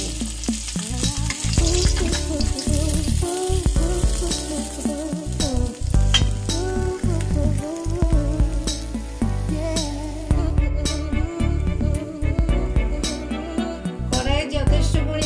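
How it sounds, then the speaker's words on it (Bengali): Black cumin and a green chilli sizzle in plenty of hot oil in a kadai for a fish dish. A steady frying hiss runs throughout, broken by repeated sharp clinks and scrapes of stirring. "কড়াইয়ে যথেষ্ট পরিমাণে তেল আছে, এর মধ্যে দিয়ে দিচ্ছি একটু কালো জিরে আর একটা কাঁচা লঙ্কা ফোড়ন।"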